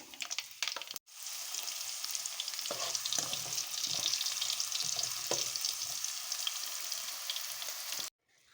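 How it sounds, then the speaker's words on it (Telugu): Garlic cloves and curry leaves sizzle and crackle loudly and continuously in oil in a pan after a brief pause, with scattered spatters and stirring knocks, then cut off abruptly. "4-5 రెబ్బలు కరివేపాకు, 20-30 దాకా వెల్లుల్లి రెబ్బలు వేసుకొని ఫ్రై చేసుకోవాలి"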